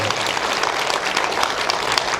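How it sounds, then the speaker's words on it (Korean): Audience applause at a jazz and philosophy lecture, a short burst of dense, even clapping from a seated crowd, steady throughout. "박수를 치세요."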